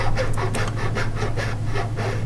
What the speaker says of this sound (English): on the left and right sides, we'll be filing until it's like it drops straight down from the laser cut edge